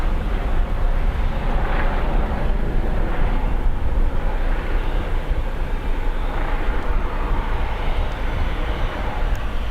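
A KLM airliner departs Dublin Airport, its jet engines a loud, continuous broadband roar dominated by low rumble, steady and powerful across the whole stretch with no voices over it.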